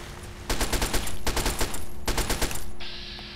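Gunfire in the video game Fallout 3, three rapid automatic bursts of sharp, crackling shots separated by short pauses, loud and close, followed by a brief high tone as the firing stops.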